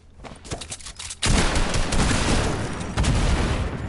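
Pistol gunfire in a video game rings out as several sharp shots, then a loud sustained burst of firing and booms over about four seconds, with no talk.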